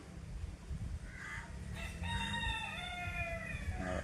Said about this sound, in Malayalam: ഇതാണ് നമ്മളെ പൂവൻ.